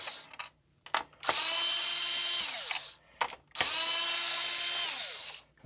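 A power driver backs screws out of the instrument cluster circuit board of a 1984–1989 C4 Corvette: two long, loud whirring bursts that wind down at the end, with brief blips of the trigger between them and no voices.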